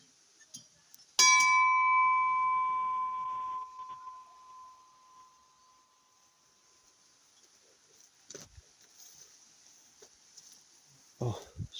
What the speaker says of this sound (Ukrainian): Такий дзвін.